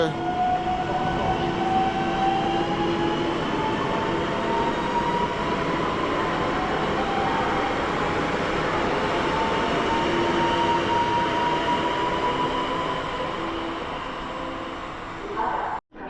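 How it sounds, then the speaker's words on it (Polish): A Chopin passenger train hauled by an EP09 electric locomotive rolls into Warszawa Zachodnia station, a steady loud rumble of wheels with long whining tones rising and falling across it, ending in a sudden drop. "wjeżdża pociąg Chopin. Prowadzi go lokomotywa EP09"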